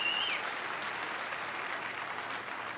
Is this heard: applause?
yes